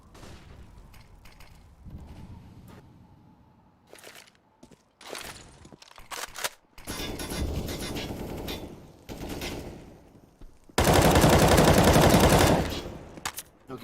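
Bursts of gunfire trade back and forth in a competitive shooter match, scattered single shots building into sustained automatic fire and a loud, dense volley near the end, with faint footsteps between bursts.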